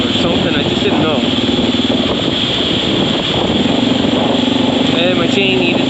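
A Honda XR650L motorcycle with a loud exhaust in need of repacking, plus a loose drive chain, rumbles steadily and close up throughout, with faint speech.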